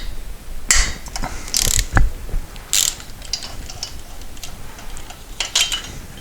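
Snap-on flex sockets on a ratchet during a partial engine teardown of a 1973 Moto Guzzi motorcycle: several close, sharp bursts of rapid ratchet clicking separated by short pauses, with no talking.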